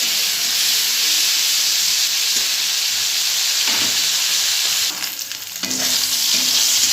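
Seeds crackling and popping in hot oil with turmeric and salt added in a home kitchen pan, a steady loud sizzle with scattered sharp pops and a brief dip near the end, no talking.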